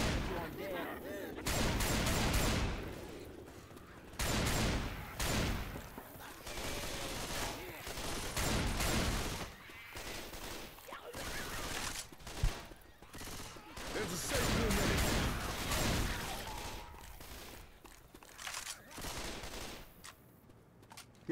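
Gunfire and explosions in a zombie shooter video game, dense continuous bursts and blasts filling the whole stretch, loud and close, with a few brief voices in between.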